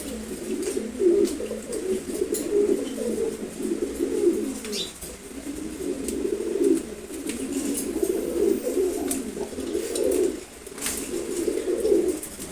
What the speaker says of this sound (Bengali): রেসার কবুতর জোড়া